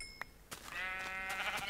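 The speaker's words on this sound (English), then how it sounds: "Oh, a black sheep." Sheep bleat in Minecraft, a sustained nasal bleat with a few clicking game sounds before it, played at low level with no talk.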